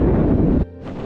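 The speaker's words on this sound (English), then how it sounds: "It is blowing a gale." Strong gale buffeting the microphone at a camping spot, a loud low roaring rush that drops away abruptly partway through, then rises again faintly.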